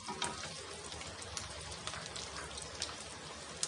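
Chopped tomatoes go into onions frying in a pan for paneer butter masala, giving a dense, steady, rain-like sizzle with small crackles throughout.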